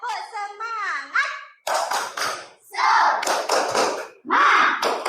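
Classroom spirit clapping: a teacher's voice leads, then bursts of rhythmic hand claps mixed with children chanting, close and lively, in several short groups.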